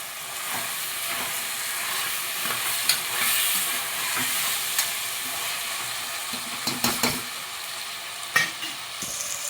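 Potato pieces for a vegetable Maggi sizzle and fizz in a pan, a steady close-up hiss broken by occasional sharp clinks and scrapes of stirring.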